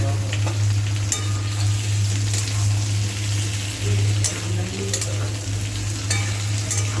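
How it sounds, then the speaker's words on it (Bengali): Cut squash fries in a pan with a loud, continuous sizzle and crackle, a steady hum running underneath and occasional sharp pops and stirring clatters close by. "কেটে রাখা কোয়াশ আমি একটু ভেজে নেব।"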